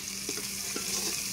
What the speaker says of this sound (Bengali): নে এবার পেঁয়াজটা ভাজা ভাজা করে একটু